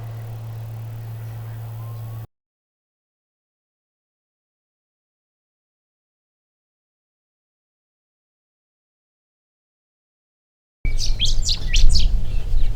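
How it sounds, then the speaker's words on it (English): Short chirps from a male house sparrow, close and repeated, heard over a low steady hum after a long silent gap, in outback Farina, South Australia. "A house sparrow, this one a male of the species."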